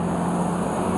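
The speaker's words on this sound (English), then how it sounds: "Oh jeez, that's a lot of cars." Steady, dense road traffic with cars passing continuously nearby, forming a constant broadband rumble and hiss with no speech over it.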